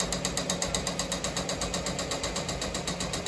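A Ricoma MT-1501 embroidery machine runs loudly, giving a fast, regular mechanical clatter of around seven beats per second that holds steady and close throughout.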